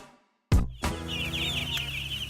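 Young meat chickens and a couple of turkeys cluck and peep in a brooder of fresh bedding, starting with a sudden loud thump, then close, busy chirping and clucking over a steady background hum.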